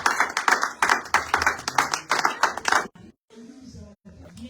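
A church congregation at a French-language sermon claps in a rhythmic, steady beat for about three seconds, fairly loud and close, then it stops and a few quieter sounds and murmurs follow.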